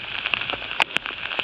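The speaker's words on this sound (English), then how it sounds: "I think this is about the worst rain I've experienced for a long time" Heavy rain pours steadily around a walker crossing open countryside on a long-distance coast-to-coast trail in northern England, a dense continuous hiss with a few sharper drops and taps close by.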